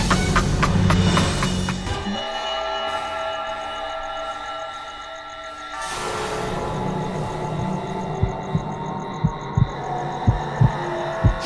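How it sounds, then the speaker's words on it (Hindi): A mother's heartbeat in a Hindi fantasy drama: low droning tones, then a steady run of loud, evenly spaced thumps in the final seconds. "मैं माँ के दिल की धड़कन को सुन सकती हूँ।"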